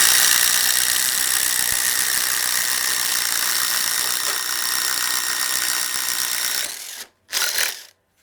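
Ryobi ONE+ HP impact drivers, Gen 2 and Gen 1, hammering side by side in a steady loud rattling buzz for about seven seconds, then cutting out with a short final burst.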